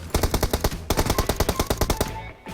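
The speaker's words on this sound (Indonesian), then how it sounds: "di luar Bang ada yang nembak" Rapid automatic gunfire in PUBG Mobile, two sharp bursts of evenly spaced shots, loud and close, with a brief gap between them and a final single crack.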